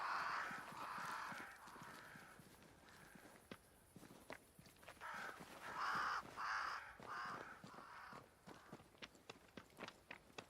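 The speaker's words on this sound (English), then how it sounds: "Crows. They flock to that great tree up there." Crows caw in a game world set in New Eden, repeated harsh calls rising over footsteps and hoof clops, mostly without talk.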